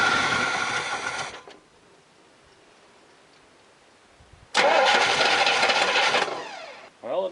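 An old carbureted engine with a sticking choke and drained fuel is cranked in two loud, steady bursts of mechanical whirring separated by a few seconds of near silence, then it briefly sputters again at the end.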